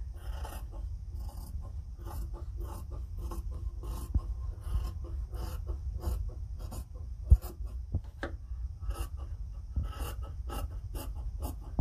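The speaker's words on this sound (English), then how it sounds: "I'm just going to cut out my circle." Scissors cut out a 6.5-inch fabric circle for a ponytail scrub hat, with a steady run of short, close crisp snips and rasps and no talking.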